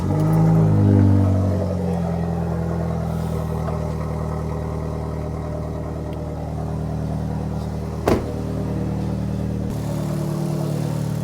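A Vauxhall Corsa VXR engine cranks and fires up after an oil change and new performance spark plugs, then settles into a steady, close idle with a brief click partway through.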